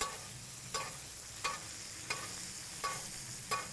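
A boneless ribeye steak sizzles steadily in a cast iron pan while vegan butter is basted over it, with soft regular spoon scrapes every three-quarters of a second under the quiet frying hiss.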